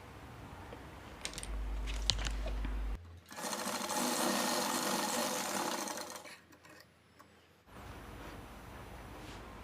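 An electric sewing machine stitches the front panel of a blouse, whirring steadily for about four seconds at close range after a few light handling clicks, then stopping.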